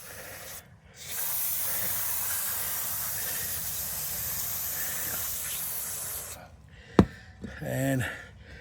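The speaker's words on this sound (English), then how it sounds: "So let's get this sprayed down." Aerosol cobweb remover sprayed onto a car's rear brakes gives one long, steady hiss lasting about five seconds, followed by a sharp click and a brief rattle afterward.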